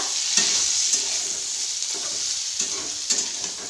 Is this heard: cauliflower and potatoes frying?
yes